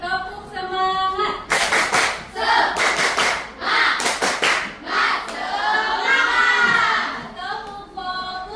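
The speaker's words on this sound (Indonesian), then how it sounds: "Sekarang biar membangkitkan semangat, tepuk semangat." Schoolchildren in a classroom perform a rhythmic clapping chant, bursts of group hand claps in patterned beats mixed with chanted young voices, loud and close.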